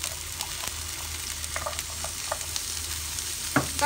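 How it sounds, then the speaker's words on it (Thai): Garlic and chili stir-fried in a pan, a steady, close sizzle and crackle of hot oil running throughout, with occasional scrapes and clinks of the utensil against the pan and no talking. "ก็ผัดกระเทียมกับพริกนะคะให้หอม"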